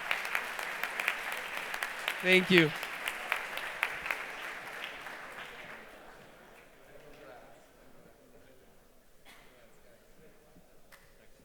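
An audience at a hackathon closing ceremony applauds in a dense, crowd-wide burst that fades away after a few seconds. A voice speaks briefly near the start, and quieter room sound follows.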